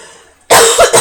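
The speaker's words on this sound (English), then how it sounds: "Still getting over this cough." A single harsh, loud cough breaks out close to the microphone after a quiet moment, with a second short burst right after.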